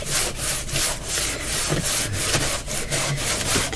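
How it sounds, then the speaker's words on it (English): Rag rubbed hard back and forth over a painted wood sign, giving rhythmic, close scrubbing strokes about three per second, loud and steady. "I'm just going to rub my rag on it."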